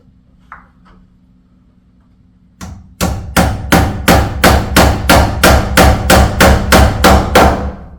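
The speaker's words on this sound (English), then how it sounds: "I saw it going in the middle of my hammering." A steady run of about a dozen sharp hammer blows on a nail, evenly paced and close, after a quiet opening with a faint low hum.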